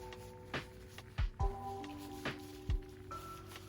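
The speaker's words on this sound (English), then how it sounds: "we are going to take a paper towel. Gonna rip it off, fold it twice is what I like to do" Paper towel torn off a roll and folded twice in a workshop while restoring Beyblades: a few short, close crinkly tears and soft thumps spread over several seconds, over a steady background hum.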